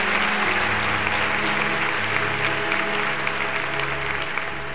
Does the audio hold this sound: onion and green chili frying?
no